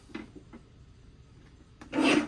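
Cardstock for a Christmas scrapbook page is trimmed on a paper trimmer, with a few soft scraping slides and then a louder, rasping cut stroke near the end, close and alone.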